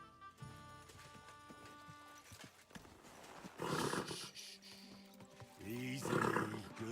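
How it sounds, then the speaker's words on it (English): A horse in the medieval video game Kingdom Come Deliverance 2 clip-clops and snorts, with louder whinnying bursts toward the middle and end, fairly quiet overall, with game ambience. "Easy, good horse."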